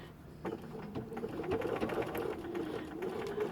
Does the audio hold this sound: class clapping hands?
no